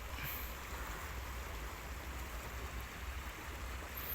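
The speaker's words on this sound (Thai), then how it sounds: "กระแสน้ำไหลค่อนข้างแรง" Strong river current rushing past a washed-out bridge approach on a rural road, a steady, continuous broadband roar of flowing water with a low rumble, close and unbroken throughout, no voices.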